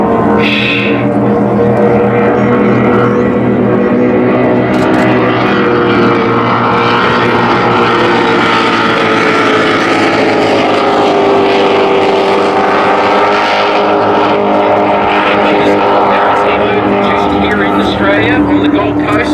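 Offshore superboat racing engines, including 525 Mercury power, roar loudly and continuously during a championship round on Lake Macquarie, with a commentator talking over the engine noise.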